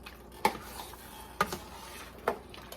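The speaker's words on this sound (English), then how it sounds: "stir this up" A spoon stirs taco bowl filling in a pan, three distinct metallic scrapes and clinks against the cookware spaced about a second apart, close and clear over a faint background hiss.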